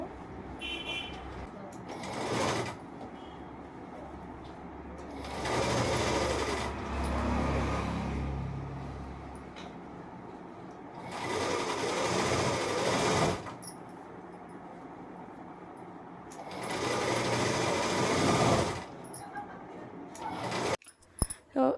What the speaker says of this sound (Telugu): అయితే నేను ఈ మోడల్ బ్లౌజ్ అయితే కుడుతున్నాను.